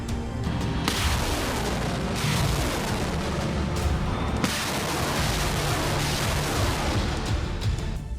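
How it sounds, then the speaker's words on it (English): Missile strikes hitting a Russian ammunition depot in Nova Kakhovka, heard as a continuous distant roar of blasts with a couple of sharper booms, no voices. "The 2-second-long clip shows smoke rising in the air, the aftermath of one strike, before another strike occurs and creates another explosion."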